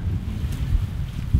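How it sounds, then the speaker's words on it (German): Autumn wind blowing outdoors beside a garden stream, a steady low rushing buffet with gusty swells and microphone wind noise throughout, no voices. "der Wind fängt an, der Herbst kommt"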